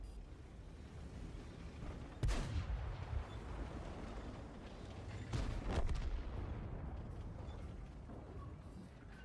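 Tank cannon fire in a World of Tanks-style game: two heavy booming shots a few seconds apart, each a loud crack followed by a rolling low rumble over engine and battlefield ambience.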